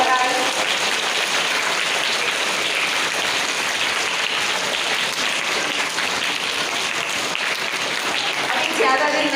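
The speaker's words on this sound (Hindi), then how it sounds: "तो उसके लिए जोरदार तालियां" An audience at a primary school Hindi elocution event gives loud, dense, sustained applause that fills the hall evenly from start to finish.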